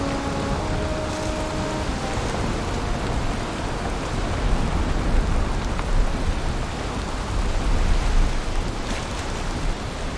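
Heavy rain pours steadily during a storm in the survival game Valheim, a dense continuous wash with a low rumble of thunder beneath it and a few faint tones early on.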